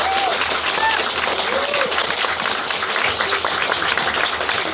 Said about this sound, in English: let me make a request for three rounds of applause